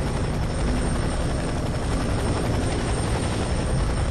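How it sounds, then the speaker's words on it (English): Helicopter rotor hovering in the FEAR 3 video game, a loud, steady broadband thrum with continuous rotor chop that holds unchanged throughout, with no voices over it. "we gotta get to this helicopter."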